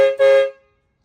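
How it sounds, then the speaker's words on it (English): An air horn fitted to a Carryall 500 utility golf cart gives two quick close blasts, a short toot then a slightly longer honk, ending abruptly into silence. "Get the air horn on."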